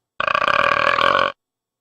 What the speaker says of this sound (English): That's a burp.